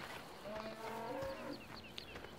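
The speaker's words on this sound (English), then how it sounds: "yeah, I've suddenly got 14 cows." Cattle mooing on a farm in a farming video game, several drawn-out lowing calls overlapping in the middle of the clip against a busy background hum, with no talking.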